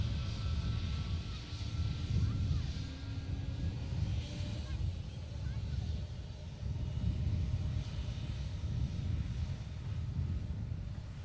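An airliner with Neo engines at Manchester Airport, a steady low engine roar and rumble heard from a distance, continuous and fairly even in loudness.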